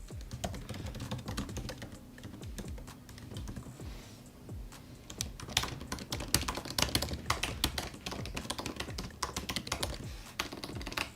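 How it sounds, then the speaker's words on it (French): Fast, steady typing on a MacBook Pro 16-inch keyboard, a dense run of soft, close key clicks with brief pauses and no talking. "Au niveau de la tape, il est plus silencieux aussi"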